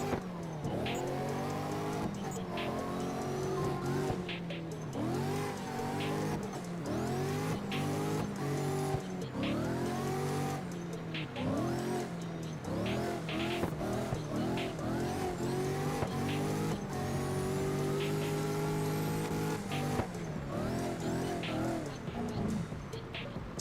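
Car racing in the CarX driving game, engine revving up and down through repeated accelerations with frequent squealing tires and skids, loud and continuous, with no talking.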